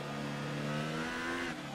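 An F1 car engine in the F1 2018 racing game holds a high, steady whine during a race in China, running rich engine mode, its pitch climbing then easing back, loud and continuous with no voice over it.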